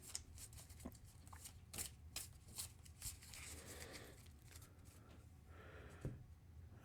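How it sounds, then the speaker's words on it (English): A deck of cards for the Marvel Champions card game being shuffled, with a few crisp riffling bursts and soft flicks spread over several seconds at close range, quiet and without talk. "let us give my deck a shuffle"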